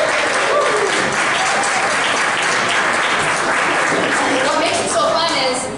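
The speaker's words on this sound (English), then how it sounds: "How about a big round of applause" Sustained applause from a large crowd, steady and dense clapping that fills the whole stretch without letting up.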